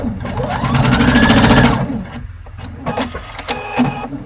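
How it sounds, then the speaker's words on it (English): A sewing machine runs a fast, steady stitch along a seam for about two seconds, loud and close, then stops, followed by soft handling clicks and fabric rustle. "Remove my last pin and sew that last bit."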